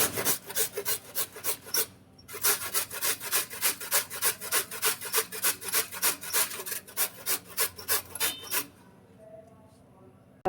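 Sweet potato grated by hand for a milk pudding gives a loud, close series of regular rasping strokes, pausing briefly after the first few and stopping near the end, with no speech.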